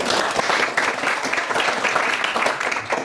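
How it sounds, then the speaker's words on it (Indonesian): A class audience claps in sustained applause throughout, dense and even with no voices over it. "setidaknya sama saya lah kamu berikan tepuk tangan"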